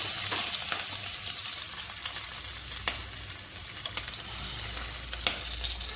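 Chillies sautéing in oil in a pan give a steady, close sizzle and fry throughout, with a few sharp clicks of a utensil against the pan and no talking.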